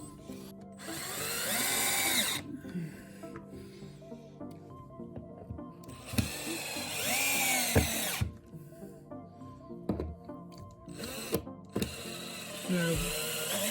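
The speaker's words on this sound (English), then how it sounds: "Now I got to screw the rest of the way in." A power drill drives screws into a board in several separate bursts, each a whirring spin that rises in pitch, with short pauses and small clicks between them, up close and loud.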